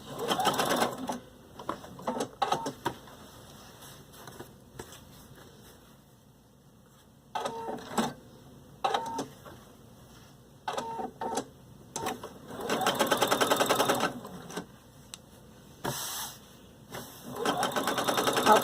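Sewing machine stitching fabric in the round, quiet motor whirring in short bursts of varying length separated by pauses, with faint handling noises between runs.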